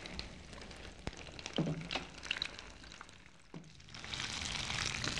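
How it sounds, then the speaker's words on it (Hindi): Breaded food sizzles in hot oil over medium heat until golden brown, a soft steady frying hiss with faint crackles and a few small clinks of a utensil, fairly quiet and with no talking. "इसे गोल्डन ब्राउन होने तक फ्राई करेंगे।"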